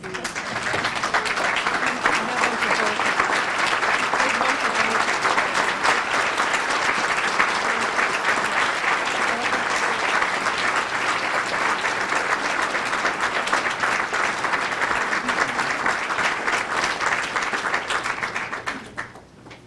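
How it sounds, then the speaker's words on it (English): A standing audience gives a long, steady round of applause, dense clapping holding at an even level for nearly twenty seconds before tapering off at the end. "I would really love it if we could stand and give them a round of applause."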